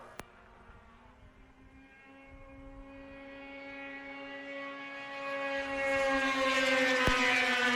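Polaris snowmobiles in a Women's Formula 500 race on a snowmobile racing circuit, with a high engine whine that rises in pitch and grows steadily louder as the machines approach.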